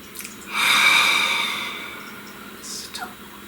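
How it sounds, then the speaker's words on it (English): One long, deep breath is drawn in and slowly let out close to the microphone in a quiet room, with a softer exhale trailing off near the end. "Please take a nice deep breath."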